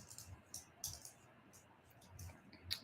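Faint, irregular keyboard typing, a scattered series of soft clicks and taps at uneven intervals in a quiet room.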